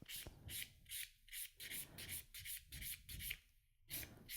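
Hard gel nail tip being filed with long, rhythmic rasping strokes, about eight regular passes of a nail file, close and fairly quiet, with no voices.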